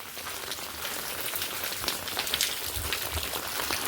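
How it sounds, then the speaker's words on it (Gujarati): Light, steady rain falling outdoors in the morning, with a gentle breeze, as someone sets off on foot toward a factory; a continuous soft patter fills the scene with a few low gusts and no talking. "વરસાદ છે ધીમો ધીમો ચાલુ,"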